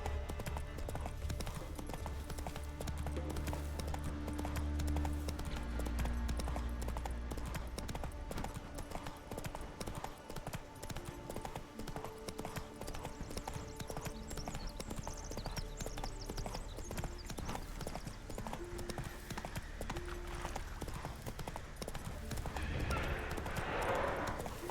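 Roach, Geralt's horse in the video game The Witcher 3: Wild Hunt, gallops with steady rapid clip-clopping hooves over game music and ambience, with a brief whinny and occasional faint voices.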